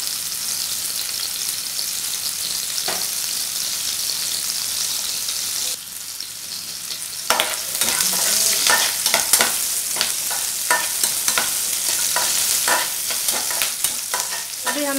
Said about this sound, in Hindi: अभी हमारा प्याज अच्छे से फ्राई हो गया है